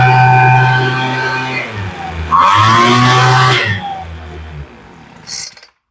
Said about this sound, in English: And you can hear it when you rev up.